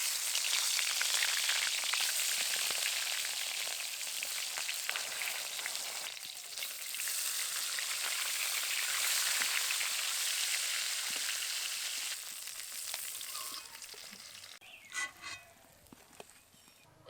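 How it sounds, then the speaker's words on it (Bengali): Katla fish heads fry in hot oil in a wok, a steady broadband sizzle with faint crackles that runs almost unbroken, easing slightly toward the end where a few sharper spits pop out. "মাছের মাথাগুলো দিয়ে ভেজে নেব।"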